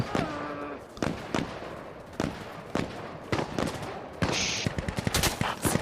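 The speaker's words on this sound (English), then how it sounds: "I'll use the AKM one more time. It's a sweet gun, the AKM, but it's definitely not a long distance weapon." AKM assault rifle firing in a first-person shooter video game, heard as a string of sharp, close gunshots in short bursts with brief pauses between them, and a hissing wash of noise near the end.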